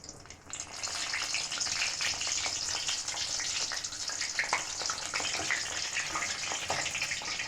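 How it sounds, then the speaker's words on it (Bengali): Sweet-potato sweets (ranga alu mishti) fry in hot oil with a steady, bubbling sizzle that starts after a brief opening and holds at moderate loudness, dotted with small pops, and no one speaks. "এই মিষ্টিগুলো আমি ভেজে নেব।"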